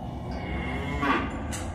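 A single cow moos from the cattle pens, a short low call rising near the middle over a steady, rumbling outdoor background.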